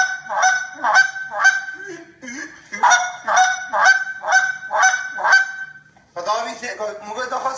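A Cree Crusher goose call made by John Cole is blown in a rapid series of loud, close honks and clucks in rhythmic bursts, ending in a tighter, faster run of notes.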